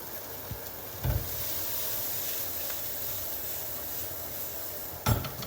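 Curry leaves and coriander sizzle in hot oil for a prawn curry, a steady close hiss interrupted twice by a clatter of a utensil against the pan. No one speaks.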